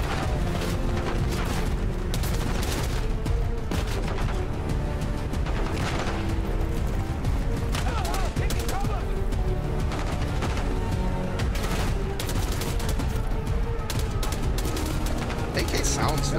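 AK rifle gunfire in the Call of Duty video game, with continuous loud shots, booms and explosions packed into a dense combat mix, while someone talks over it.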